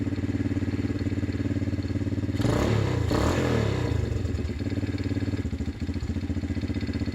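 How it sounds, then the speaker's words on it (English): A Chinese 110cc quad's engine idles steadily and loudly after a tune-up, with a brief burst of clatter or a throttle blip near the middle before it settles back into an even idle. "That's the best she's ever idled."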